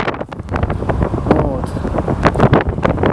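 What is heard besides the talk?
wind blowing in a forest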